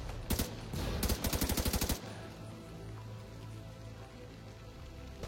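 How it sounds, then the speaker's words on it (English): Video game shootout: a short single shot and then a rapid automatic burst, loud and close, over a steady rumbling game background that carries on after the shooting stops, with no talking. "Keep firing and take them out!"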